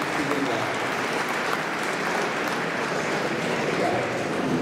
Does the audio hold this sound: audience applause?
yes